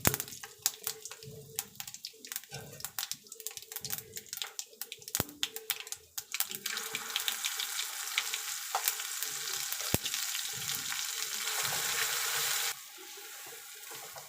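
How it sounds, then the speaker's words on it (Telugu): Curry leaves and tempering for coconut chutney lightly fry in hot oil, giving close crackling and spitting pops that settle into a steady, louder sizzle. "లైట్గా అయితే ఫ్రై చేసుకోవాలి"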